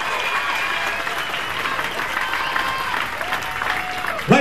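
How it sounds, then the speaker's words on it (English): Spectators at a women's boxing event applaud and cheer after the opening bout, sustained crowd clapping filling the hall with scattered shouts, and a voice briefly rising at the very end. "a big round of applause to both ladies for a fantastic opening contest"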